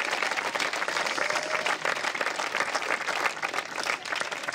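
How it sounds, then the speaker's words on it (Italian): Sustained applause fills a hall for a futsal team, Latina Calcio a 5, at its season presentation, dense and steady throughout with no clear talk over it. "Un applauso ancora a questa formidabile squadra."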